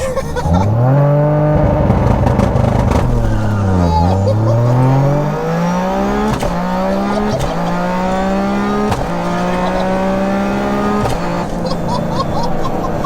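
An 800 bhp three-cylinder Toyota GR Yaris with a sequential gearbox revs hard, loud and close, rising through the range with repeated upshifts marked by sharp drops in pitch; voices are heard over it.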